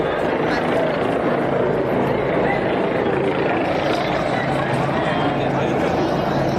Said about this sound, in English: In this one, you'll hear helicopters.